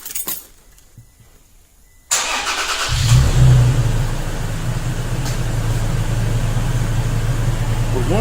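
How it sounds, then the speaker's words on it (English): A 2016-2018 Toyota Tacoma sits quietly, then after a click the engine cranks and catches about two seconds in, revving briefly before settling into a steady, close idle that continues to the end. "This will trigger the vehicle to remote start and run for 15 minutes."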